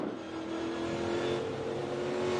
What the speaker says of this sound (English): you can hear Ty have to baby the throttle a little bit